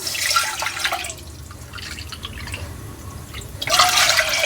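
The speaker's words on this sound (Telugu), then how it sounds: "ఈ గిన్నెతోని మనం 2 గిన్నెల నీళ్ళు వేసుకుందాము" Water poured into a bowl to make rice chips batter, a steady trickling and splashing fill with a brief lull midway before the pour picks up again, close and alone.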